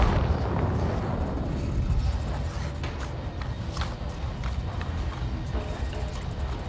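Explosions and blasts from the video game Avatar: Frontiers of Pandora, a dense, continuous rumble of booms and crackling bursts with sharp peaks throughout, loud and steady with no talk over it.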